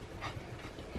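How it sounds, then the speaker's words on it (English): Excited dogs pant indoors, a quick, breathy, soft rhythm close to the listener with no voices over it. "The dogs are super excited because they know I'm going out"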